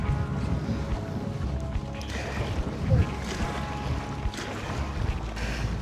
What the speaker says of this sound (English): Yeah, the winds have shifted.